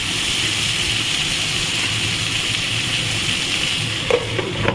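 Vegetables sizzle steadily in a hot pan, a continuous close frying hiss with a couple of stirring knocks near the end.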